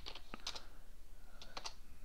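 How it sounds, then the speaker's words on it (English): Quick clusters of keystrokes on a computer keyboard, soft and close, with short pauses between bursts over a faint steady hum. "So you start typing in their name and it will show who it's going to"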